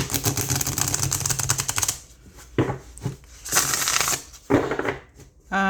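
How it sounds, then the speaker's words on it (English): Shuffling of a used mass-market tarot deck: a dense riffle of card flutter for about two seconds, then several shorter bursts of cards slapping and sliding with brief pauses between, close and fairly loud. "let's check out the shuffle"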